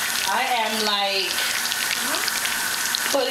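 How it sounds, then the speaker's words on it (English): Chicken wings fry in hot oil, giving a steady loud hiss and sizzle with popping throughout, while a voice talks over the cooking the whole time. "So as you can see, it's frying. It's beautiful, but boy, is it popping!"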